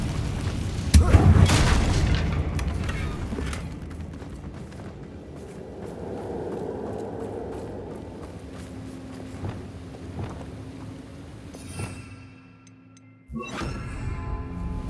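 A Confringo blast spell in the Hogwarts Legacy video game goes off with a loud booming explosion near the start, then a fading rumble, scattered footsteps and smaller impacts, and a sharp sound burst near the end.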